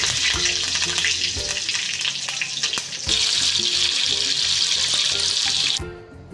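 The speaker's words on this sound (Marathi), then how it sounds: "मोहरी जिरे टोमॅटो हिरवी मिरचीचा ठेचा मस्त तेलामध्ये परतवून घेतला" Mustard seeds, cumin, tomato and green chili paste sizzle in hot oil as they are stirred, giving a loud, continuous frying hiss with scraping, close up, that cuts off abruptly near the end.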